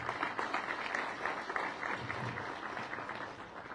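Audience applause for a speaker being introduced at a formal academic presentation in Cuenca, Ecuador: steady, dense clapping from a moderately distant crowd, continuous throughout and easing slightly near the end.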